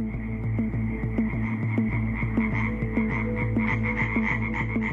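Tree frogs croaking in a loud, rapid, steady chorus of repeated calls, close and continuous with no talk over them.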